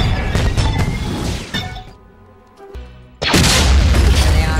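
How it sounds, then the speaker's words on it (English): A bomb explodes in a science-fiction battle scene from a film, a loud booming blast with crashing debris that fades into a lull before a second heavy roaring burst. "Bomb on fire."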